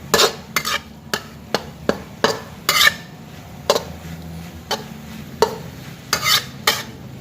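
Buffalo meat laab with Vietnamese coriander leaves being stir-fried in a pan, with repeated sharp scraping and clattering strokes of the utensil against the pan over a steady low sizzle, close and clear.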